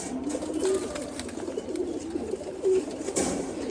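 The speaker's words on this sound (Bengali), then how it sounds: "এই যে এই কবুতরটা" Racing pigeons from a pigeon racing club coo softly in steady low murmurs, with a few louder bursts of coos and rustling nearby.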